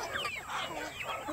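Meat chickens, heavy-breasted birds kept free-range on a farm, cluck and murmur continuously in a busy overlapping flock, close by and steady, with no talking.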